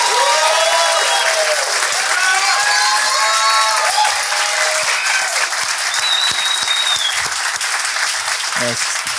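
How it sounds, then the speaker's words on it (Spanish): A theatre audience gives a loud, sustained round of applause for Ave Jaramillo after a Castigo Divino show, with dense clapping, scattered whoops and whistles, and voices rising throughout. "que le den un fuerte aplauso a la Ave Jaramillo"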